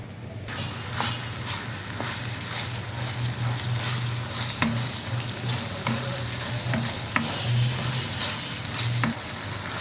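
Chicken sizzling and frying steadily in a pan with a spoonful of pomegranate molasses, a loud continuous crackle with occasional stirring clicks and scrapes.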